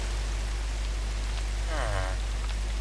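Steady rain falling in the Minecraft video game, a constant broadband hiss throughout, with a brief voice-like tonal sound near the end.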